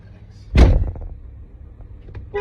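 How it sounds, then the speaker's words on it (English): A car door slams shut once, a sharp close thud with a brief rattle trailing off, followed by faint cabin noise and no talking. "Why are you slamming the door?"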